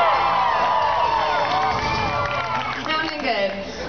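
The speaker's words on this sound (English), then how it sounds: "Let's hear it for Team Tyson!" A crowd at a dog agility show cheers loudly for a team, with whoops, shouts and scattered clapping rising together in a lively, close burst.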